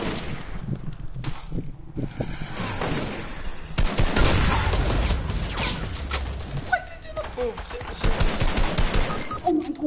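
Rapid pistol and combat shotgun fire in Fortnite, bursts of shots crackling loud and close through the whole stretch, with players' voices talking over the gunfight.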